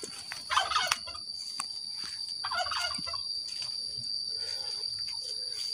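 Turkey gobbling in a quiet rural village, a few short rattling gobbles close by, then softer calls over a steady high insect-like hum and faint background noise.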